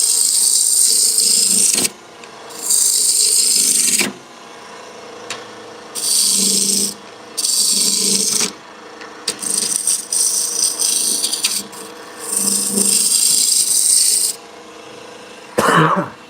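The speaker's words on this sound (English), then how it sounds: "Using my rougher to get a lot of this material off quickly." A roughing gouge cuts wood on a lathe while a bud vase is turned, coming in loud rasping bursts of a few seconds each that are separated by brief quieter gaps as the tool is lifted.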